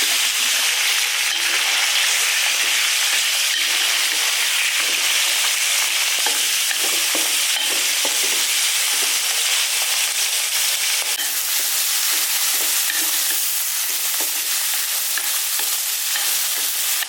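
Meat sizzling loudly in hot oil flavoured with fried onion and Sichuan pepper, a dense steady crackle and hiss with stirring scrapes throughout, close up and with no talk.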